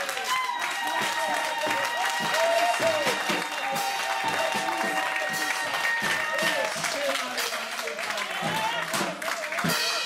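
A church congregation applauds and cheers in a dense, sustained roar of clapping mixed with loud voices and shouts throughout.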